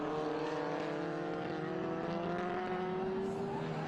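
A bright yellow Austin Healey Sprite with black and red stripes races around a circuit, its engine a steady, loud drone with a rising pitch as it pulls hard, holding at close range throughout.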